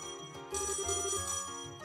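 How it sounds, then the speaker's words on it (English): A communication device rings like an alarm in a video game, a bright electronic trill starting about halfway in and repeating for under two seconds, loud and alone. "Well, looks like an alarm, more than a phone."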